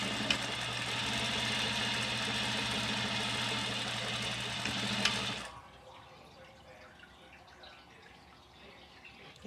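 A sewing machine stitches face mask fabric pieces with a steady, even motor drone for about five seconds, then stops, leaving faint room noise.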